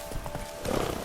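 In The Witcher 3 video game, a horse's hooves beat in a quick clip-clop rhythm for a brief moment over a steady background hum.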